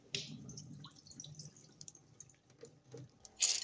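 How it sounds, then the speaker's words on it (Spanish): Water dripping and trickling in a kitchen sink while soaked beans are rinsed and drained, soft irregular splashes and drips with a louder splash near the end. "Luego enjuagamos los frijoles y nos deshacemos de esa agua"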